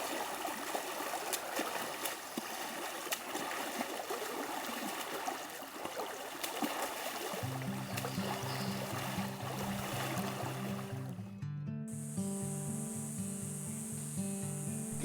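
A creek in Aravaipa Canyon rushes over rocks in a steady, hissing babble for about seven seconds, after which tonal music comes in over the continuing water.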